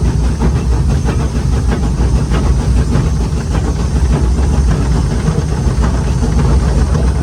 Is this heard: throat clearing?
no